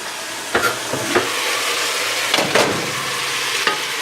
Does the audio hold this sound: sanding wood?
no